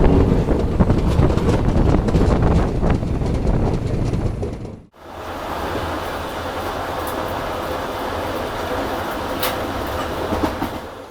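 Raxaul Howrah Express pulling out of Ghorasahan station, heard from a sleeper coach as a steady loud rumble with wheel clatter and wind buffeting, broken by a brief dip before the rolling noise resumes.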